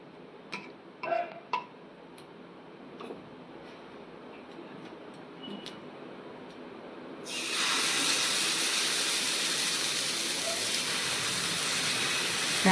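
Sweet potato pancake batter sizzling in ghee on a hot dosa griddle (tawa), a loud steady hiss that starts abruptly partway through after a few quiet clicks and taps, then holds evenly close up.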